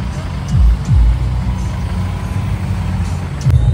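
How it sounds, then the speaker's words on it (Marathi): Heavy traffic stuck on a snowy, slippery mountain road in Kashmir, with trucks and cars idling and creeping forward close by, low engine rumble swelling at moments, under faint background voices. "आता स्नोफॉलमुळे ट्रॅफिक जाम लागलाय."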